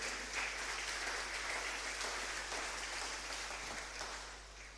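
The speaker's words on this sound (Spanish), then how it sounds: "Dale un aplauso, Señor, aleluya." A church congregation applauds together, a steady wash of clapping that holds evenly for several seconds and then thins a little toward the end, with no voices breaking through.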